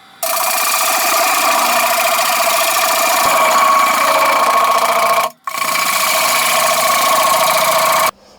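A wood lathe turns a picture frame while a parting tool cuts glass grooves and parts off the core, giving a loud, steady whirring drone that runs for about five seconds, dips briefly, then resumes until the end, with no talking.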